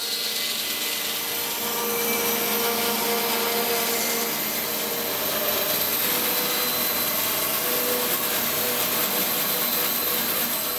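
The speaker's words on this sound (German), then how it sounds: "Auch an der Tiefe des Rohlings sägt der Schreinermeister ordentlich was weg" A master carpenter saws away the depth of a wooden blank for a recurve bow, a loud, unbroken machine whine with a rough cutting texture that holds steady throughout, with no talk.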